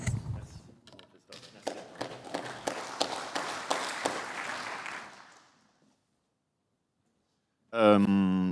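Audience applause for a regional president's speech at a business event in Auvergne-Rhône-Alpes: clapping builds over a few seconds, holds briefly, then fades into near silence before a voice starts speaking through a microphone.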